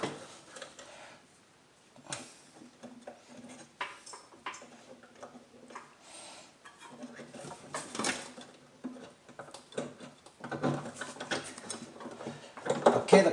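Metal clicks, taps and scrapes come from a rod and cotter pin being fitted into the spindle of a Craftsman T110 lawn mower, faint and irregular, with small clusters of knocks growing busier near the end.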